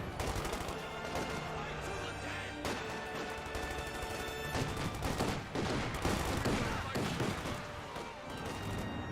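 Rapid gunfire and explosions from a Company of Heroes 2 battle, with PTRS anti-tank rifle shots among dense, continuous bursts and crashes under a steady loud mix of combat noise.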